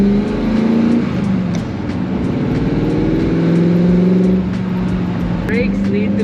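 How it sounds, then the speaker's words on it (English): A Superformance GT40 accelerating on a test drive: a loud, continuous engine roar heard from inside the car, with the pitch climbing and shifting through the revs. "gonna test drive the GT40"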